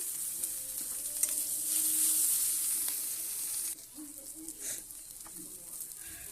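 Five-spice, chopped onion and chili hitting hot oil while making a lentil dish with prawns and yam: a loud hiss that surges, then drops to a softer sizzle with stirring scrapes and a faint voice.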